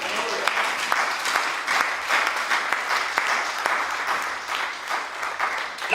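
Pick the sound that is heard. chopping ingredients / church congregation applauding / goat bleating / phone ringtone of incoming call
church congregation applauding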